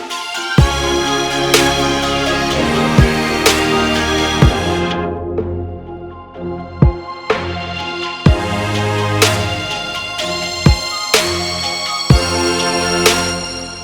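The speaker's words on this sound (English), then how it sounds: "I'm using a low pass filter in this case to create more intention on a specific section of the song" A song section processed with a low-pass filter EQ, full-band music with regular sharp hits that turns muffled and dark partway through before the highs return, loud with no talking.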